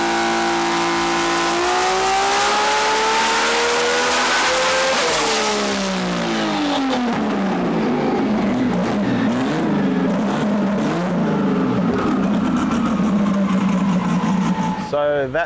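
A nitrous-equipped car engine on a test run revs and climbs loudly, its pitch sweeping up and down through a sustained roaring pull that fills the whole stretch with little pause.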